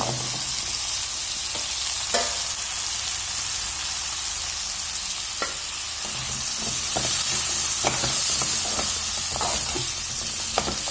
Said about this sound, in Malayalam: വെളുത്തുള്ളി 2 പച്ചമുളക് കറിവേപ്പില ഇതിട്ടിട്ട് വഴിക്കാം.